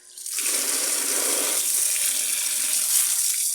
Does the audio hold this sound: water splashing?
yes